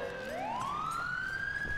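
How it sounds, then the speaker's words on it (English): A police car siren in the video game GTA 5 sweeps upward in a smooth rising wail and then holds a high, steady tone, loud and alone, with no voices. "Let me go ahead and shut off my siren here."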